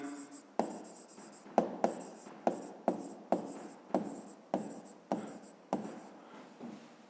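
A pen writes numbers and units on paper while a physics exercise is worked, close scratchy strokes in quick repeated bursts with short pauses between them, no speech over it.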